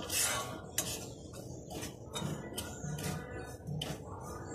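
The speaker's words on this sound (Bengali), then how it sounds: "সুজিটা খুব ভালো করে নেড়ে চেড়ে নেব।" Semolina is stirred in a pan, with a spoon scraping and clinking softly against the metal in repeated short strokes, faint and close with no talking.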